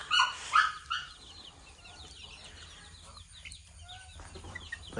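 Hens and small chicks cluck and peep nearby in a backyard: a few louder clucks at the start, then softer scattered chirps over faint background noise.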